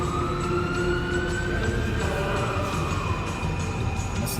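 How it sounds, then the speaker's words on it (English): A wailing ambulance siren sweeps steadily across the whole stretch, loud and continuous as it passes, in a scene from a game of The X-Files Collectible Card Game. "This is the part where I have an ambulance run past the screen."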